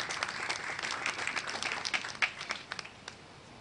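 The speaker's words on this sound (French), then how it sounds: "Applaudissez." Sustained applause from an audience at a graduation ceremony for new judges, steady clapping with a few sharper individual claps standing out near the end, no voices.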